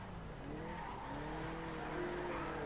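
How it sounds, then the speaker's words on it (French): A Cheetah Classique drifts in GTA 5, its tires squealing in long rising and falling whines over a steady engine drone, loud and continuous for a few seconds. "On va essayer un petit drift là à gauche."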